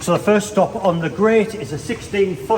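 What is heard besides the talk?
No everyday noises stand out.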